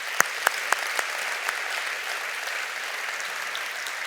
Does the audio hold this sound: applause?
yes